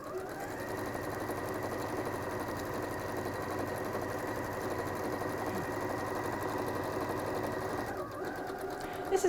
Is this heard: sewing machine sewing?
yes